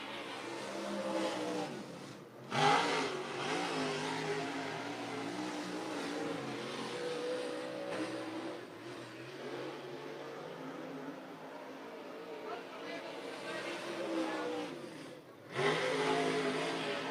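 Race cars run qualifying laps at a Labor Day championship meet, their engines droning and surging as they rise and fall in pitch through the bends, with brief louder swells as cars pass close by.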